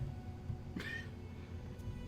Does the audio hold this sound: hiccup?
no